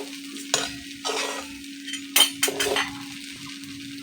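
Flattened rice (chira) with sugar being stirred and fried in a pan for chira pulao, a spatula scraping in several bursts over a faint steady sizzle with occasional clinks of metal on the pan.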